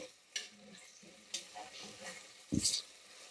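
Black-eyed peas and onions are stirred in a frying pan, a faint sizzle broken by a few sharp scraping strokes of the spoon, close and quiet.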